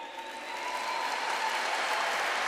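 An audience at a Catholic Canção Nova prayer gathering applauds in a steady, dense wash of clapping that swells slightly and holds, with no voices over it.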